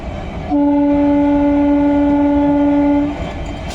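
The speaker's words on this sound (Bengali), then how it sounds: "দুটো ডিজেল লোকোমোটিভ একদিকে ইলেকট্রিক লোকোমোটিভ কাজ করছে আর এদিকে দেখতেই পাচ্ছেন সেই ডিজেল ডিজেল কিভাবে একদমই নতুন লাইনে প্যানেল আনলোডিং করছে" Diesel locomotive horn sounding on a new double rail line where rail panels are being unloaded, one loud steady multi-tone blast of about two and a half seconds over background rumble, no talk.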